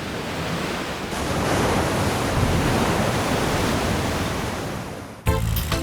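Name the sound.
Atlantic ocean waves crashing on rocky point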